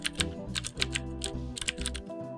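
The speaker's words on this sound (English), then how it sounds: "who doesn't love the classic feel and sound of Cherry MX Blue key switches?" Quick, continuous typing on a mechanical keyboard with Cherry MX Blue switches, close up, with sharp clicky keystrokes in an uneven rhythm and no talking.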